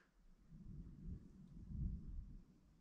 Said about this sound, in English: You hear the thunder? It's in the distance, but it's building.